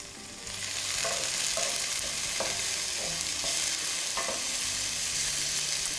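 Onions frying in a pan, a steady close hiss and sizzle with occasional soft clicks of stirring, no talk.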